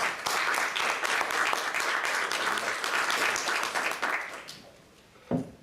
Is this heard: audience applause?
yes